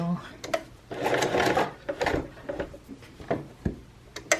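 A sewing machine stitches a 1/4 inch seam on a frog bean bag, its steady mechanical whirring broken by short pauses as the hand wheel is turned; someone talks over the close, moderately loud machine.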